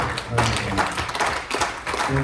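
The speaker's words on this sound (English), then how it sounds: "please applaud Pastor Eddie" Audience applause at a summit in Toronto for Pastor Eddie, a dense crowd clapping steadily throughout, fairly loud, with a voice speaking over it.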